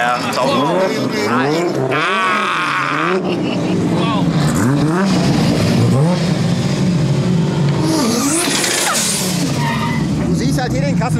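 A turbocharged Golf 1 R30 Turbo accelerates hard, its engine rising and shifting through gears at close range for about eleven seconds, with a commentator's voice talking over it throughout.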